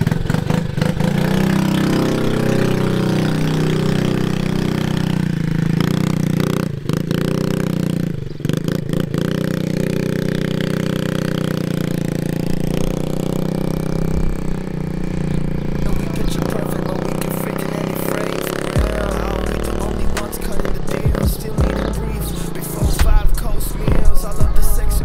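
A new motorcycle bought for 1100 euros runs close by, its small engine idling with a steady mid-pitched hum that holds throughout, then picks up into rougher revving near the end.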